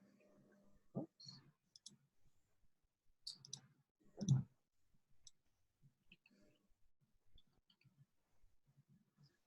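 Soft computer mouse clicks while navigating a referral network dashboard, a few isolated taps scattered over quiet background with faint murmured speech.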